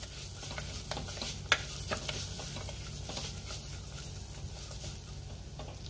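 Thin slices of coconut, almond, pistachio and cashew being stirred in a pan while making wheat kheer give a quiet, steady sizzle, with soft scraping and stirring noises and one sharper tap of the spoon.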